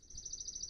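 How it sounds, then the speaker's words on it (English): A bird chirps outdoors in a yard, a steady high-pitched trill running for under a second at low volume. "I heard a bird behind me."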